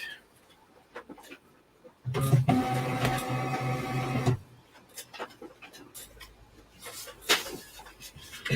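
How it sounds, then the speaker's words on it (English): A label printer runs in one loud mechanical burst of about two seconds in the middle, with quieter clicks and room sounds before and after it. "Printed on the wrong printer."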